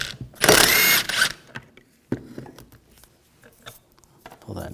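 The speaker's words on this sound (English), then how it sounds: "Using a 16mm socket, we're going to take this nut off." A ratchet with a 16mm socket removing a rear shock absorber nut on a 2011-2018 Volkswagen Jetta, giving a burst of rapid clicking followed by scattered short mechanical ticks and clinks, close up.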